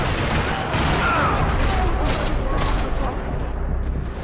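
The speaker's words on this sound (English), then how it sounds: "Another parking lot rattling with gunfire." Dense, continuous rattling gunfire in a parking lot in the video game Max Payne 3, loud and sustained throughout with overlapping bursts and no pauses.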